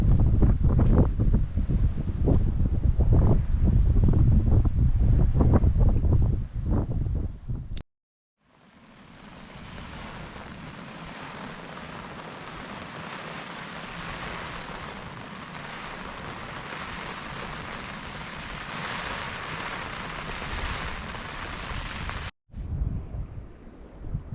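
Wind gusts and rain hammer a tent at a valley campsite in Wales at night, loud and roaring at first, then a brief hush before a steady, softer rushing buffeting that persists.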